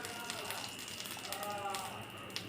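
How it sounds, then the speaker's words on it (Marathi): Mustard seeds crackling in hot oil in a small pan, a dense continuous sizzle with scattered sharp pops, close and fairly quiet throughout. "मोहरी कडकडायला लागली"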